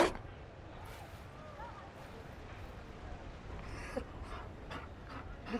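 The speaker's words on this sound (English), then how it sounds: "You found a dog?" A Mabari war dog in a fantasy video game pants steadily at close range, a soft rhythmic breathing over a low ambient bed, with brief louder breaths near the start and end.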